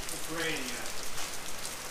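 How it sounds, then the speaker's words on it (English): Heavy pouring rain falls outdoors, a dense continuous hiss of drops striking surfaces, close and steady with no voices. "it's pouring rain out, as you can see."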